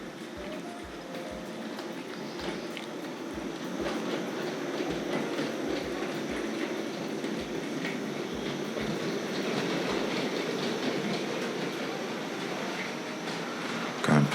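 A small Tri-ang Railways R.153 saddle tank model locomotive with goods wagons runs steadily along a track with a continuous rumble and a regular clicking rhythm from the rails, close by and fairly loud throughout.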